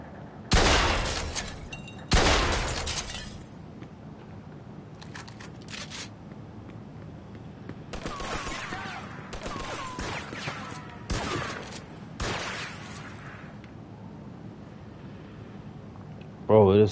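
Shotgun gunfire in Mafia II on PS5, two sharp, loud blasts early on followed by several more scattered, crackling shots in the distance over a low ambient background.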